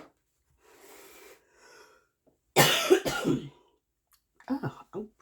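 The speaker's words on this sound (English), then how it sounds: "I promise I was not coughing like this before I started." A person coughs and clears their throat in a quiet room: soft breathy sounds first, then a loud burst of harsh coughing, followed by a few more short coughs and rasps.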